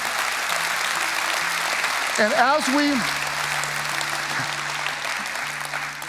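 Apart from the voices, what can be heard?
church congregation applauding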